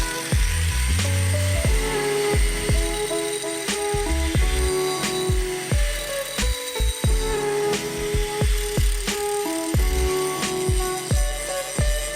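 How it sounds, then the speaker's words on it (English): A grinder fitted with a grinding wheel shapes a metal brake pedal, its motor whine broken by repeated bursts of harsh grinding and short pauses, loud and close throughout with no talk. "I switched from a cutting wheel now to a grinding wheel."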